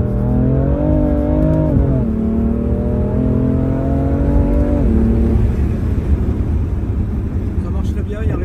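Car accelerating hard from inside the cabin, engine note climbing in steady pitch steps through gear changes, loud and close, with a voice speaking over it partway through.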